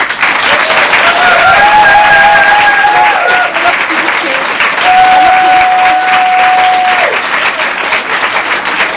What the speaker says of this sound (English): I want to give a real big round of applause for Runa, Claudette, Laurie and Hayley